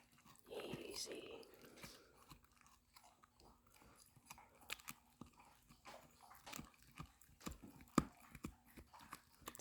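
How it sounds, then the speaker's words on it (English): A dog gnaws on a treat held in a hand, giving close, irregular crunching and biting noises through most of the stretch, with soft breathing early on and no clear speech. "See how hard she's chewing."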